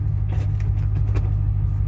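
Ford Mustang GT with a 4.6 V8 and five-speed manual, a steady deep engine drone heard from the cabin while cruising, with faint clicks and rattles over it.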